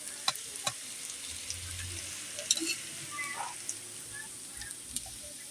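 Bitter gourd slices frying in oil in a pan, a soft continuous sizzle with a few sharp clicks of stirring scattered through, fairly quiet and without talk.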